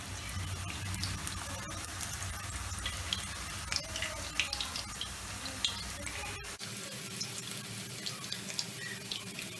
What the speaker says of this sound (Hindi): जो हमने एक केला के चिप्स काटे थे ना, देखिए, अब हम इसमें डालेंगे तेल में।